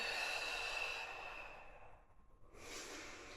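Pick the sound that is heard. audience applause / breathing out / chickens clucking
breathing out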